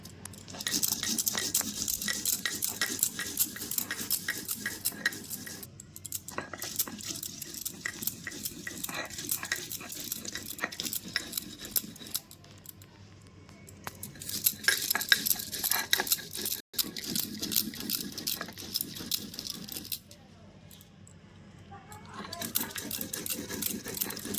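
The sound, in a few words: mustard seeds being ground on a stone grinding slab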